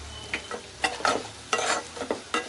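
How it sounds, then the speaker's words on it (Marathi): Turmeric sizzles in hot oil while a spoon stirs it in quick, irregular scrapes, several close strokes over a low frying hiss, cooking for Agri-style mutton curry. "त्याला थोडासा लगेच परतवून घ्यायचा आहे।"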